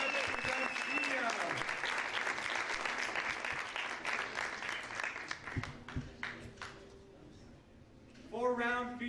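Crowd at a Legacy Boxing event applauds a young female boxer as she is introduced, claps and cheers loud at first, then thinning and fading, with a voice speaking briefly near the end.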